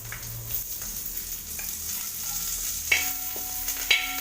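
A few sprigs of curry leaves dropped into hot oil that is already browning, a soft continuous sizzle and crackle close by, with a couple of faint clinks and no speech.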